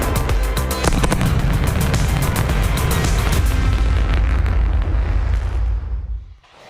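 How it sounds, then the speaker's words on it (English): Two sonic booms from returning rocket side boosters at landing roll through the room as a loud, sustained rumble with crackling bursts, cut off abruptly near the end. "Just heard the 2 sonic booms here in the room."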